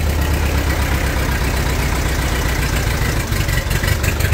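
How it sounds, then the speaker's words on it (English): A Ford 8N tractor engine runs loud and close with a steady low rumble and mechanical clatter throughout, and no voices are present. "Little bit of throttle and choke, and this thing should fire right up."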